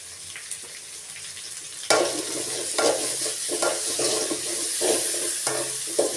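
Steady oily sizzling and crackling of curry leaves frying in hot oil in a pan, with bursts of louder spitting and a few stirring scrapes.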